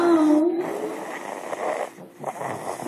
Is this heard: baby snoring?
yes